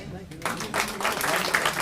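Audience applause for a school jazz ensemble on tour in South Africa rises suddenly after a quiet start and continues as a steady, dense clatter of clapping from a crowd.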